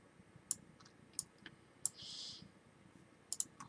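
Pulsar Nova optical Pro keyboard with hot-swappable switches giving a handful of sharp, isolated clicks spaced apart and one brief soft hiss in between, faint and close in a quiet room.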